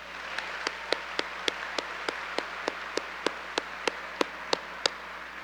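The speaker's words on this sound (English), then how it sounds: "Please join me in a round of applause for our deans." At a fall undergraduate commencement ceremony, applause for the deans comes through as a quiet, distant hiss of clapping, punctuated by sharper, evenly spaced single claps from one nearby pair of hands.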